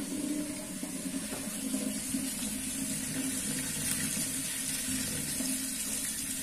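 A tap runs water for rinsing while removing Holi colour, a steady close hiss and splash from start to finish with no talking.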